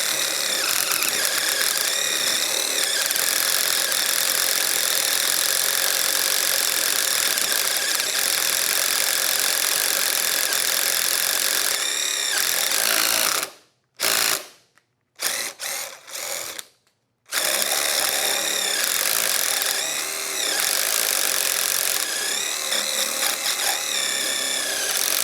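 A DeWalt drill boring into wood with a 1-inch paddle bit, a loud continuous motor whine that runs steadily, breaks off in a few short stops and starts, then resumes at full load.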